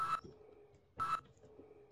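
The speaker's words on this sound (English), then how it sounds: "what's that beeping noise coming from?" Two short electronic beeps about a second apart, fairly loud against a quiet background with a faint low hum, in the video game Half-Life.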